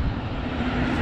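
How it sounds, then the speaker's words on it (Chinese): Large airliner engines roar steadily at Sanya Phoenix Airport in Hainan, a loud, broadband jet drone with a sustained low hum, heard continuously without voices. "又来一个大飞机，这次依旧是搁侧面拍，看听着声音，哇塞，发动机的轰鸣声啊，"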